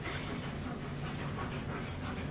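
Several excited dogs panting and whimpering indoors, a steady breathy, close rumble of breathing with small whines mixed in, no talking.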